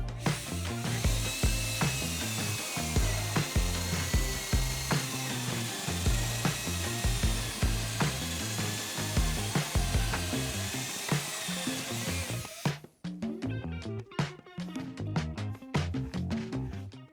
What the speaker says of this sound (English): I am going to drill through this vinyl plank flooring